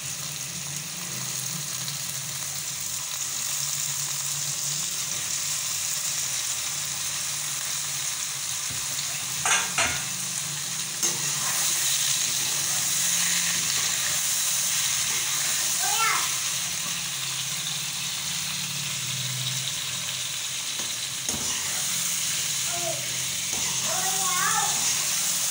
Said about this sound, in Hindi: अपनी ये आलू की कटलेट्स डाल के इसको थोड़ा सा हम भुनेंगे